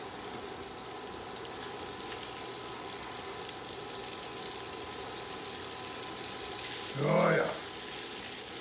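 Onions and liver fry in oil in a pan, giving a steady low sizzle throughout, briefly broken by a louder splash as more oil goes in, with a short spoken remark.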